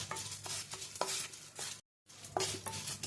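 Coriander seeds, cumin and dried red chillies being stirred and dry-roasted in a frying pan, close scraping and rattling strokes with a faint crackle, briefly cut to silence midway.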